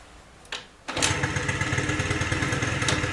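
After a couple of kicks, a Peugeot Elyseo or Yamaha Neos scooter engine catches and starts, settling into a steady, loud, rattly two-stroke idle close by.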